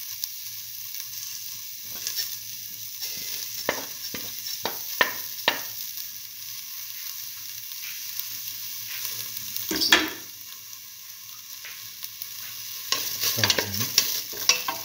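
Fennel seeds sautéing in a pan, a steady soft sizzle broken by repeated scraping stir strokes, with a louder flurry of stirring near the end; close and unaccompanied by talk.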